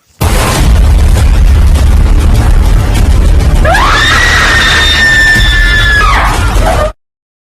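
A woman screams in terror in a horror film scene, a long, loud, shrill cry held for several seconds over a heavy, booming, rumbling soundtrack that cuts off abruptly.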